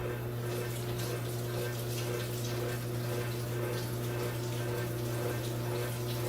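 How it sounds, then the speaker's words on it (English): Tap water runs steadily over carrots as they are rinsed, a constant splashing flow with a low hum beneath it. "So I don't want to rinse these carrots too much."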